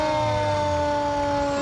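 A fire truck siren wails at a steady pitch, loud and continuous, with a low engine rumble beneath it outdoors.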